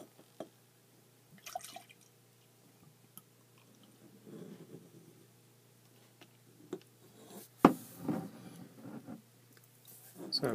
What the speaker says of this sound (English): So a pretty good pour there, but not too much head.